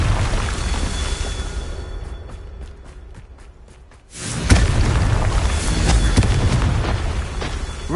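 A Confringo blasting spell in the Hogwarts Legacy video game sets off a loud booming explosion after a fading rumble, with a sharp burst and heavy roar that sustains.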